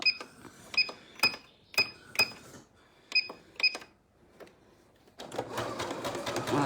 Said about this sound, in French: Et je vais donc choisir un point zigzag pas trop serré